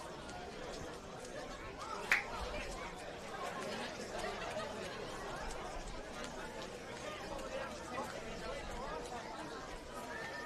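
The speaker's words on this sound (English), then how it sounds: "Certainly a big crowd here at Ramsay Park." Big crowd at a Ramsay Park football match between NWS Spirit FC and APIA Leichhardt: a steady, distant wash of chatter and murmuring from many spectators, with a brief sharp shout or whistle-like spike early on and scattered laughter.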